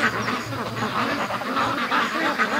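Muscovy ducks in a farmyard quack in a dense, steady run of calls lasting a few seconds, close and fairly loud, with no clear pauses between them.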